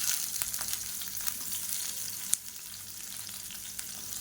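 Garlic, ginger and onion frying in oil in a pan for a tomato chutney, a soft continuous sizzle with faint crackles and one sharp click partway through.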